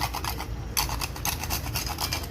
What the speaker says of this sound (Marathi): जायफळ किसून घालायचा